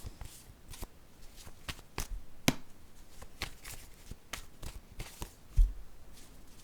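Oracle cards handled and drawn from a deck: a string of crisp flicks, taps and papery rustles at an uneven pace, close by, with a louder thump near the end.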